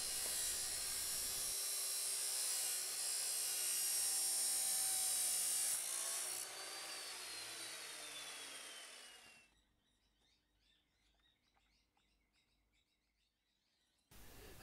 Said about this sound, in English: I could use the angle grinder to cut these, but I've got a cut-off saw and this makes a nice straight cut.